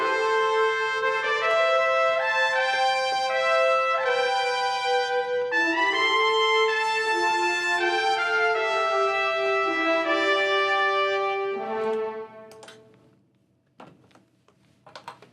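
A sustained orchestral arrangement of layered strings and brass swells through shifting harmonies, then fades out, leaving a few faint knocks at the end.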